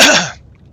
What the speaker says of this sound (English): I really gotta work on my throat health. It feels nasty, just like keep like coughing like this.